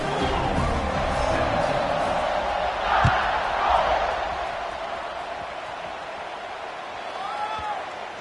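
Stadium crowd in a college football video game, Oklahoma vs Alabama, roaring steadily at kickoff with swelling cheers and a sharp thud midway, all under a commentator's continuous play-by-play talk.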